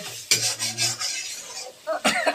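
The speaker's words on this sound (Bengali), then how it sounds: "আর পূজা এখানে রান্না করছে, মশলা কষানো হচ্ছে।" Spices being sautéed in a pan give a soft, close hiss with short scraping and rubbing strokes of a utensil and a few light clinks, quiet and uneven, without speech.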